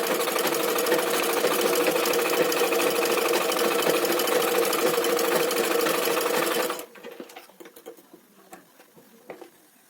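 A sewing machine runs steadily for about seven seconds while stitching a lined blouse, giving a dense rapid whirring patter, then stops abruptly, leaving faint handling noises.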